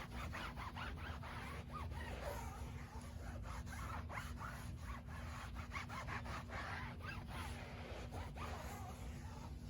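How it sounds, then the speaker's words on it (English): A towel buffs excess CeraTrim residue off the outer sidewall of a car tire, a steady, soft rubbing and swishing that continues without a break, quiet and close, with no talking. "I always like to take another towel and we just buff off the excess residue that is on the outside of the"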